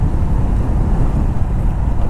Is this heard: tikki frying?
no